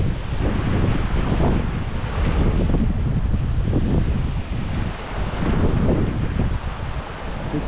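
Strong wind blows in steady, loud gusts across the mic near choppy sea by the old causeway ruins to Granite Island, Adelaide, with a low roar of surf and water beneath throughout.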